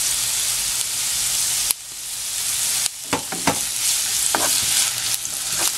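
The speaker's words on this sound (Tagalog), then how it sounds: "Ginisa natin yung garlic." Garlic and ginger sauté in hot oil in a pan, giving a loud steady sizzle with a few sharp scraping stirs partway through.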